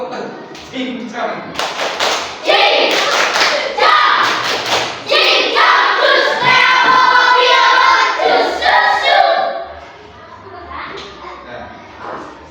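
Children in a classroom perform the Tepuk cincang clapping chant, a loud run of rhythmic hand claps and thumps mixed with their chanting voices, fading at the end.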